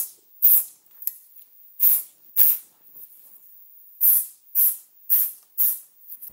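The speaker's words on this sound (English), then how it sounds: "So it is an aerosol, and what I'll do is I'll go ahead and spray it on here and on there" Aerosol can of mold release sprayed onto a 3D-printed epoxy injection mold in several short hissing bursts, about eight, each a second or less, close and clear with brief pauses between.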